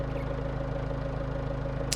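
A diesel tractor engine idles in a farming video game, a steady low mechanical drone with a fixed hum and faint clatter, unchanging throughout, with a brief hiss at the very end.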